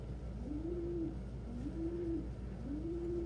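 Pigeons cooing nearby, three soft rising coos at an even pace over a quiet, low background hum.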